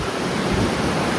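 Open ocean water rushing past a cruise ship crossing the Atlantic, a steady loud broadband wash of surf and spray with no voices.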